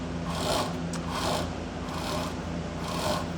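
Rear wheel and chain of a Mototec 49cc two-stroke gas pocket bike turned backwards by hand, a continuous close whirring and ticking of chain over sprocket that swells and fades in slow, even cycles.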